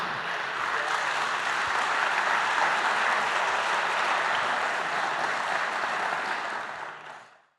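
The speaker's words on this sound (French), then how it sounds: "On peut l'applaudir." Sustained, dense applause from an audience at the Unapei-GMF prize ceremony at the 2017 Unapei congress, steady and full for several seconds before tapering off at the end.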